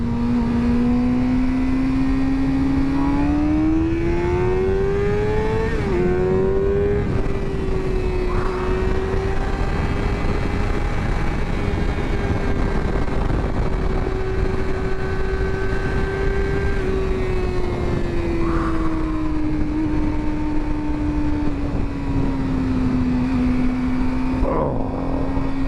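A 2023 Suzuki GSX-R600 sport motorcycle engine revs continuously while riding, its pitch climbing and settling through the rev range as loud, steady near engine drone with wind noise throughout.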